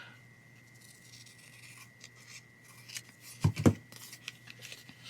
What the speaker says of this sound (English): I think I might have to trim off, like I said, about 1/8 of an inch.